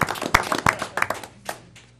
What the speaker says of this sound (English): would you mind standing up and let us give you a round of applause?